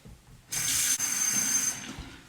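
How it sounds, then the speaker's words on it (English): Hot water runs from a tap into a marble shaving cup in a steady, close pour that starts abruptly and tapers off near the end. "I'll fill up my marble cup with some hot water."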